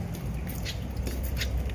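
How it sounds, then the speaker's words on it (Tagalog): Steady rain falls on a rainy morning, a continuous close hiss with soft scattered patter and no voices. "Ulan pa rin. Wala pa rin pagbabago at walang paghinto."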